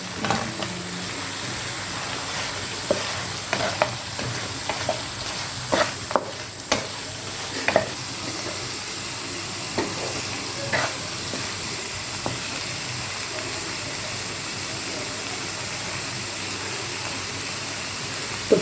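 Fried paneer cubes stirred into a thick Manchurian gravy in a pan, with a soft continuous sizzle and hiss under scattered spoon scrapes and clinks against the pan.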